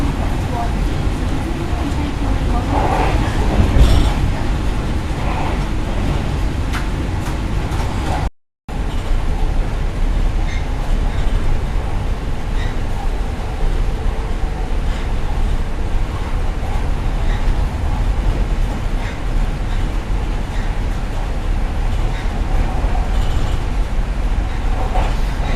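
The Overland passenger train runs from Adelaide to Melbourne, its steady rumble and rolling wheel noise filling the cabin continuously, with a brief dropout partway through and occasional talk in the background.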